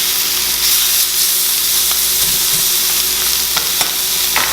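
Venison steaks sizzle and fry steadily in a hot pan, a dense continuous hiss with faint crackles and light stirring sounds, close and loud, with no talking.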